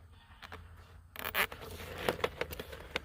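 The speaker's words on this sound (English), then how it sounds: "And just zip tie it to this bottom wire." A plastic zip tie ratchets tight around a bottom garden wire, a quick run of close, crisp clicking and scraping bursts after a brief quiet start, with no talk.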